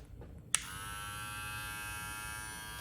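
Rebel 2.0 machine switched on after a small click, settling into a steady electric motor buzz and hum that holds level with no talking.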